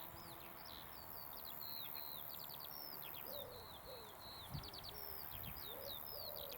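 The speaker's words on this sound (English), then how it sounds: "Wonderful skylark over there somewhere." A skylark sings somewhere off in the open countryside, a faint, distant stream of high twittering trills that runs on without a break over a soft outdoor hush.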